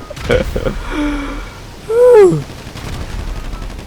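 Gunshots in the GTA V FiveM video game, a few sharp bursts of fire at the start and near the end, with a player's voice and drawn-out vocal sounds in between.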